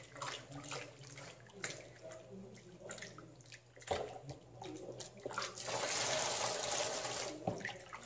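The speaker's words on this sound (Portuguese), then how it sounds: "Vou colocando devagar." Six litres of hot water are poured slowly into a container while making homemade liquid soap degreaser: soft intermittent splashes and trickles that swell into a steadier rushing pour near the end, fairly close and moderately quiet.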